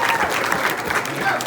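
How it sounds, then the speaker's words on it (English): Guests at a football banquet break into a short burst of lively applause, many hands clapping in a dense, even roar from start to finish. "a round of applause"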